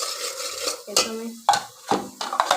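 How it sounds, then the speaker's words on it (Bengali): Cauliflower tossed into a pan of fish curry, with scraping stirs, clinks of a utensil against the pan and bursts of sizzling that come and go over a couple of seconds, close and fairly loud. "ফুলকপিটা দিয়ে দিচ্ছি।"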